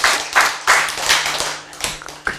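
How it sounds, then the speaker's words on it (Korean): Several hand claps during a class on healthy eating, sharp and close, coming in a loose, uneven rhythm with short pauses between bursts. "박수"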